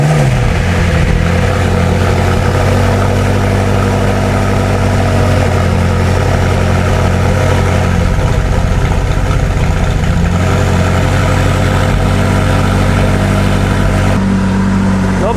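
A used McLaren sports car that had been stuck in limp mode idles loudly and steadily up close, with a deep, slightly uneven, sputtery rumble that carries on throughout with no talking.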